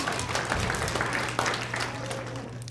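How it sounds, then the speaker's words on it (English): Audience applause at a family fun festival magic show, a dense steady patter of many hands with a low hum underneath, fairly loud throughout. "give him a big round of applause"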